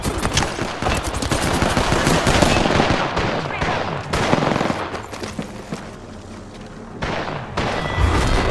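Heavy gunfire in the shooter game Apex Legends: sustained automatic bursts and loud booms hammer away nearly without pause, close and loud, with brief gaps between volleys.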